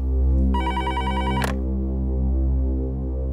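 A telephone bell rings once in a short, bright trill over a steady low hum, clear and close, then stops abruptly, with the hum continuing afterward.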